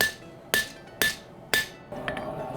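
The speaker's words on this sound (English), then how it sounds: "we will be using the flatter to get this as even as possible" Flatter struck with a hammer on a forged medieval short sword blade: three sharp, evenly spaced metallic strikes about half a second apart, then lighter clatter, close and alone.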